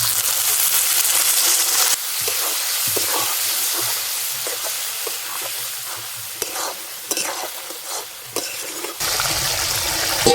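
Chicken skin curry with fried potatoes sizzles loudly in a pan after a little water is added, with a steady hiss and crackle broken by bursts of stirring.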